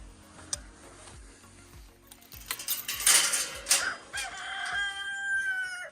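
Henry the rooster crows loudly near an apple orchard, a long rising and falling call close by, with faint clinking and rustling beforehand.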